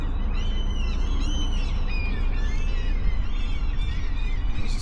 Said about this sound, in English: Those seagulls are noisy.